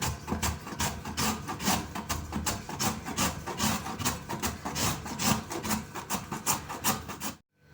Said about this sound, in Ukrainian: Натираємо соломкою один середній буряк.